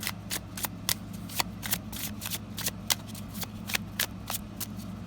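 A deck of tarot cards being shuffled, giving a run of crisp riffling snaps and flicks in uneven bursts close to the microphone over a steady low hum, with no talking.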